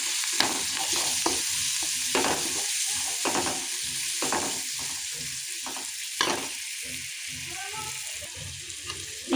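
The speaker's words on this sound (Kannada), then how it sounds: "ಬೀನ್ಸನ್ನು ರುಚಿಗೆ ತಕ್ಕಷ್ಟು ಖಾರ, ಇದನ್ನು ಮಿಕ್ಸ್ ಮಾಡ್ಕೊಳ್ಬೇಕು" Beans with chili powder being stirred in a frying pan for hotel-style beans palya, with repeated scraping strokes over a steady sizzle, close and with no talking.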